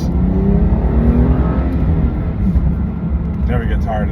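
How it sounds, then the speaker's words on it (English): A BMW M car, with fenders trimmed to fit wide tires, accelerates hard on a test drive, its engine rising in a strong climbing drone heard from inside the cabin while someone talks over it. "Never get tired of the pull that this car does"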